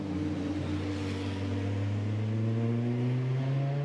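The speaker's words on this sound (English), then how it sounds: "the car, the Porsche, tries to find some grip, turns right, then left" A Porsche GT2 race car on a flying practice lap at Spa holds a steady, rising engine drone with clear harmonic tones, heard from a distance and fairly faint throughout.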